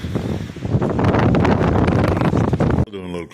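Strong wind buffets the microphone in a loud, roaring gust for several seconds, then cuts off abruptly into a brief quieter moment.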